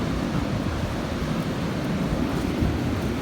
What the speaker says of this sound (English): Waves coming in.